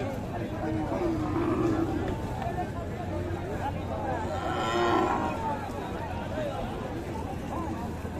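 Cows lowing at a crowded rural cattle market in Aftabganj, Dinajpur, with a few clear moos rising over a steady babble of voices and market noise; people talk throughout.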